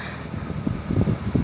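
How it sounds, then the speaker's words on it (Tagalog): An electric fan blowing air in a hot room, a steady soft low whoosh with gentle fluttering pulses, fairly close and alone with no talk. "naririnig mo ba yung ano, yung buga ng hangin sa electric fan?"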